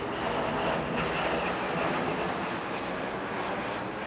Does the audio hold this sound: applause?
no